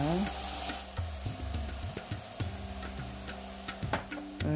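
Oyster mushrooms stir-fry in a pan with soy sauce and oyster sauce, a soft sizzle under a steady low hum, punctuated by repeated light clicks and taps of a utensil tossing the food.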